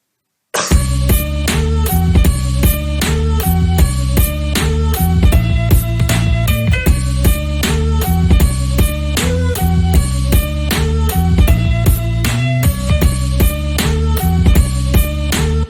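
A steady boom bap hip hop beat with punchy kicks and crisp snares in a regular loop, loud and continuous with melodic layers and no voices.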